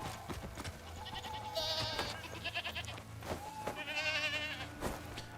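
A goat in the Crimson Desert video game bleats several times in short wavering cries, mixed with clattering footsteps and game sound effects, with no talk over them.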